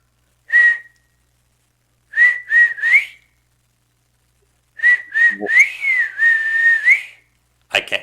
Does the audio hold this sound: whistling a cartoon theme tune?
yes